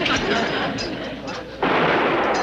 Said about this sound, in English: It sounded like a gunshot. Lulu's Derringer.